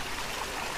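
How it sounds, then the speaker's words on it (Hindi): Natural spring water flows out of the ground in Himachal Pradesh, a soft, steady wash of trickling and gurgling heard close and fairly faint. "ये नेचुरल सोर्स है, ये झरना आ रहा है, देखिए।"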